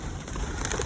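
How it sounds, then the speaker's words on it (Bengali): White pigeons being fed, giving a brief, soft cooing close by over a light background hiss. "কবুতর কিভাবে আসতেছে চতুর্দিকেতে"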